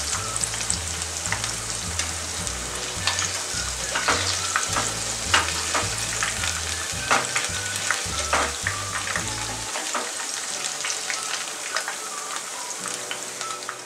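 Chicken pakoda pieces fry in hot oil with a dense, steady crackling sizzle and occasional stirring clatter, close up, while a low rhythmic music bed plays underneath for most of the clip before dropping out.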